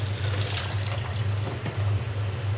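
Milk is poured into a blender for homemade yogurt, a steady close liquid stream with a low hum running under it.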